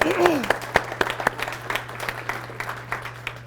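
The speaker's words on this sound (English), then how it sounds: "I also want to do a round of applause for the parents that are here" Scattered claps from a small group at a volleyball banquet, honoring the parents present; a few sharp hand claps stand out early, then thinner patter trails off over a steady low hum, with a brief voice at the start.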